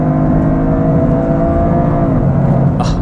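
A turbocharged 2025 Toyota GR engine with an automatic gearbox revs hard and high inside the cabin, a loud continuous rising engine note that climbs steadily, then a quick upshift near the end.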